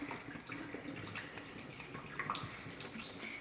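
Cheap generic bottled water poured out of its bottle, a faint, steady splashing and gurgling stream that runs unbroken for a few seconds, with no voices.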